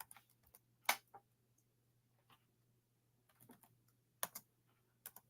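Keys on a computer keyboard are tapped in short, quiet bursts of clicks separated by pauses, close by, with a faint steady hum underneath.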